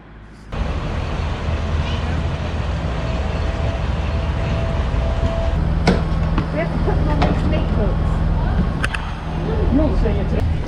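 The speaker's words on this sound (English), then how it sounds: "Old classical train." An old classic train at a small local station in Austria gives a steady rumble with scattered metallic clanks and knocks, faint voices mixed in.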